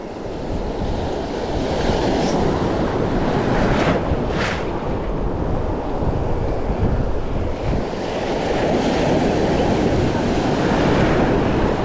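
Ocean waves churn around kayaks offshore, with a constant loud surf wash and wind buffeting the microphone, and a few stronger wave surges rise briefly out of the roar.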